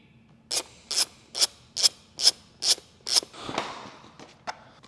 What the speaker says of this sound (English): So to do the rear fender, I'm gonna start by removing the seat.